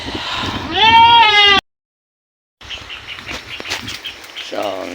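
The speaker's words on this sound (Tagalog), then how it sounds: "So napakawala na natin ang ating mga kambing." Goats bleating in loud, wavering calls just after being let out to graze beside a garden, with a short silent gap followed by rustling and another bleat near the end.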